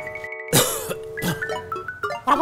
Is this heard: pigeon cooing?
no